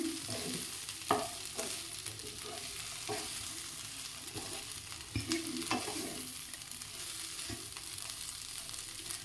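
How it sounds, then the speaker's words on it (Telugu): Chili powder being stirred into gongura chutney frying in a pan: a steady sizzle with scraping stir strokes at irregular intervals, close and moderately loud, with no talking. "చిల్లీ పొడి వేసుకొని ఒకసారి బాగా కలిపేసుకోవాలి."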